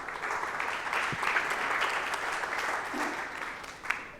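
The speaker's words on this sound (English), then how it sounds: "Can I have a round of applause for Mark, John, and Paul, please?" Conference audience gives a round of applause to panel speakers after an accessible conversational AI session; steady moderate clapping from a room of people for about four seconds, fairly even throughout, with one sharper clap near the end.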